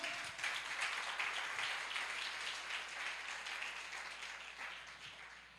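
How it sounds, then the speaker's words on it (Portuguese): A church congregation applauding together during a service, a sustained wash of clapping that holds steady and slowly fades, with no voices over it. "Pode aplaudir o Senhor."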